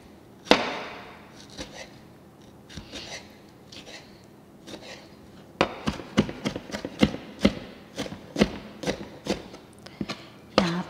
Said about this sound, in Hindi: इसको हम इस तरह से नाइफ से चॉप कर लेंगे, नहीं तो हाथ से भी काट सकते हैं इसको एकदम बारीक